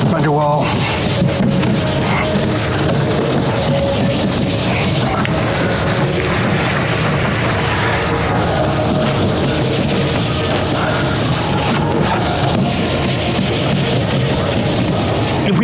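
Steady scrubbing and rubbing inside a car's fender well during detailing of a black-painted car, continuous and close throughout, with brief talk mixed in.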